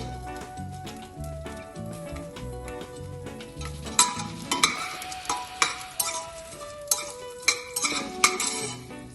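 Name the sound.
garlic and ginger frying and being stirred in a pan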